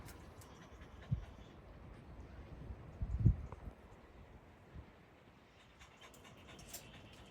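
Caged hunting dogs pant softly and steadily at close range, with a couple of brief louder bumps and rustles over a low, even background.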